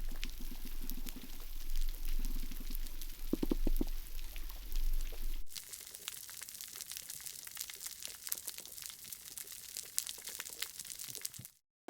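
Underwater recording on a Cuban coral reef, full of fish sounds: low thumps and grunts from swim bladders, dense crackling and clicking, and a sudden shift midway to brighter snapping before an abrupt cutoff.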